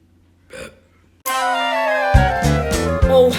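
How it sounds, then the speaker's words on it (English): A short burp in a musical film scene, followed by a loud sung melody with orchestral backing that carries on to the end. "Oh, how I love to burp"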